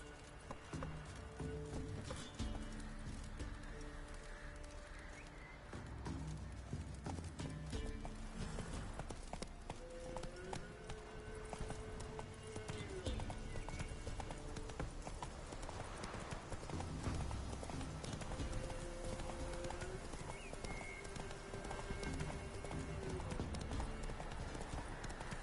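Roach, a horse in a video game, trots steadily with a continuous clip-clop of hooves close by, alongside background game music and occasional voices.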